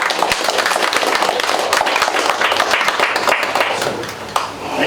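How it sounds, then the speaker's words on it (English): Audience applause at a bar magic show, a dense burst of many hands clapping close and loud, holding steady for several seconds before thinning out near the end. "Thank you, your applause has been recorded"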